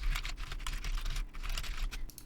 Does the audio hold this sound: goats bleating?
no